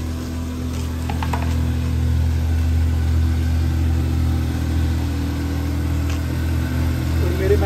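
A car engine idles steadily and close, its low hum and harmonic drone constant throughout, with faint clicks and brief higher sounds over it.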